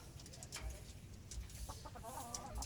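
Chickens cluck softly in the background amid a steady, noisy ambience, with a few louder bird calls near the end.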